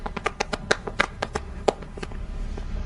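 A small group claps, hands striking in sparse, irregular bursts rather than full applause, fairly quiet and thinning out toward the end.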